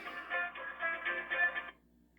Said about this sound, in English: There's my Verizon phone ringing, and you can hear it from there.